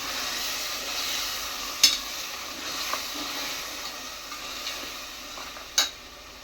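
Ground masala with half a spoon of turmeric stirred in a hot pan for egg biryani gives a soft, steady sizzle with a faint hiss and two sharp spoon clinks against the pan.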